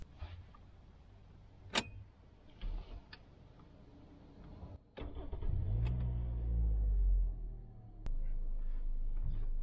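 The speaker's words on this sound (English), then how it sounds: "we can start the engine." A car engine starting at a driving test centre, with a few clicks and a rising crank at about five seconds, then a steady low idle rumbling alone at close range.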